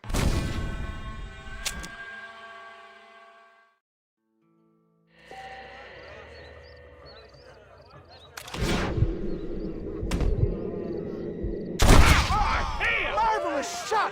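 Gunshots ring out in the Red Dead Redemption Western video game, with a few sharp separate blasts rising over game dialogue and background music. Quiet stretches fall between the shots.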